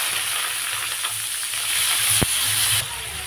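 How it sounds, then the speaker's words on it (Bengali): Two large chopped onions hiss and sizzle steadily in hot oil in a pan, a loud, continuous crackle with one brief sharp knock near the middle and no voices. "পেঁয়াজটা আমি ভালো করে ব্রাউন করে ভেজে নেব।"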